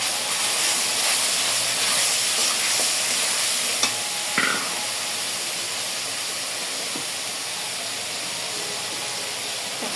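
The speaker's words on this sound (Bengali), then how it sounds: "মশলাটা একটু ভালো করে কষায় নিতে হবে" A spice paste of ground cumin, coriander and dried chilli fries in a pan with a dense continuous sizzle and hiss, marked by a couple of sharp stirring clacks, and no one speaks.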